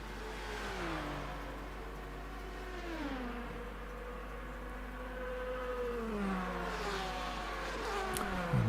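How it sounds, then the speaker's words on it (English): A hypercar engine in the racing game rFactor 2 at Road America hums steadily and shifts pitch up and down as it climbs through the gears, a moderately loud, continuous drone with no talking. "There is another hypercar coming a bit further back."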